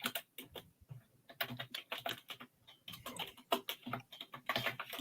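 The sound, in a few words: loud typing on a computer keyboard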